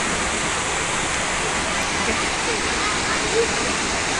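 A river flows near Coban Pelangi waterfall, a steady, dense rushing roar of water that fills the whole scene without a break.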